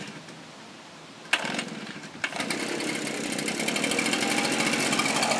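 A backpack leaf blower being used for leaf removal on new grass fires up with a sharp burst. Its small engine then settles into a loud, steady, close drone that builds slightly, with no talking.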